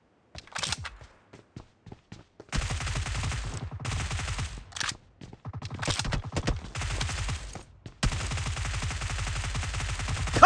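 A UMP 45 fires in a video game, first with scattered single shots and short bursts, then with long sustained automatic volleys separated by brief pauses, loud and close.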